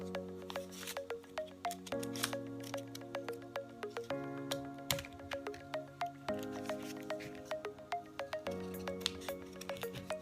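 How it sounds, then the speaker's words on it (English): Scissors snip through paper while cutting snowflake collage shapes, a steady run of short crisp cuts repeating every half second or so over soft background music. "So we're going to put it right on the end and cut. That's the strongest part of the scissors."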